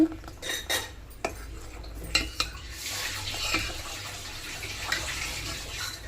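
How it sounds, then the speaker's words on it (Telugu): Carrot goes into a pot of sago and vermicelli payasam and gets stirred. A spoon clinks and scrapes against the pot in several sharp knocks, then the stirring settles into a softer, wet swirl. "క్యారెట్ వేసేస్తాను ఇందులోకి."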